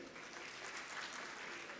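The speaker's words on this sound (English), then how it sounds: "Please give them a huge round of applause." Audience applause for guests at a LUMHS university event, a faint, even wash of many hands clapping heard from a distance, steady throughout the short stretch with no voices.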